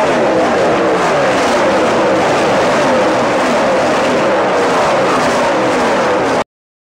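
NASCAR Sprint Cup race cars roar past at Auto Club Speedway during the 2012 Auto Club 400, a loud, continuous wall of engine noise from a pack running nose to tail, steady and dense with no pauses.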